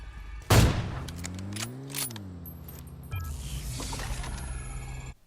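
A sharp gunshot in PUBG Mobile cracks once, followed by a low droning mechanical hum that swells and shifts, then a few scattered clicks.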